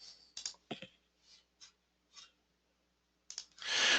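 Crisp, close computer mouse clicks sound during work in flow cytometry software, a scattering of sharp single and double clicks in a quiet room, followed by a brief louder rustle.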